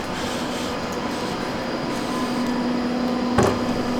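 An airport train pulls into a station in Vienna, a steady rumble with a sustained hum, then a brief sharp metallic squeal near the end.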